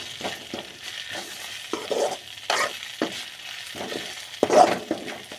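Drumstick leaves sauté in hot oil in a pan, with a steady crackling sizzle broken by repeated scraping stirs of a spoon against the pan. The stirs come in uneven bursts, close and moderately loud, and no one speaks.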